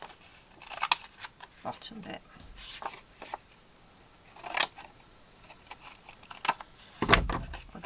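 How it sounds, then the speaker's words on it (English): Scissors snip through paper scraps while decorating vintage-style junk-journal envelopes, several short crisp cuts spaced irregularly with a louder snip near the end, under quiet talking. "I do love those scissors"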